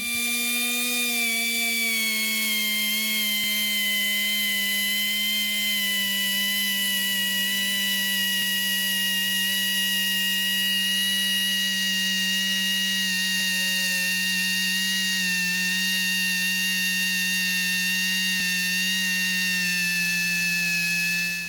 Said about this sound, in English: it's just about spending days with a dual action sander going.